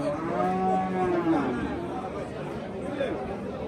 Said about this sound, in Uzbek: Buradagi eng gigant molimiz, sigirimiz.